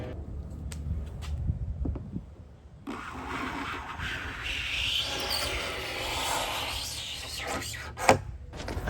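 A hand scraper removes old finish from a heavy wooden tabletop, making close, dry rasping and rubbing strokes that start sparse and then run into continuous, uneven scraping.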